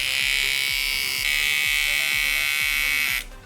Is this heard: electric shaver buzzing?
yes